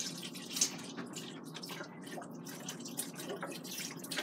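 Broth pours over white beans in an Instant Pot as a continuous splashing, trickling stream of liquid, close and fairly quiet, with no talking.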